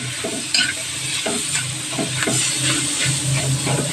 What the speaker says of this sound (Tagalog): Igisa lang natin ito mga kaurago na giniling